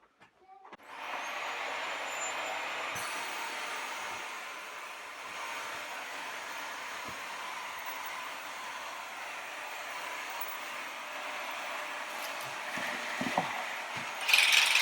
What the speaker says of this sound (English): Do this with a hoover.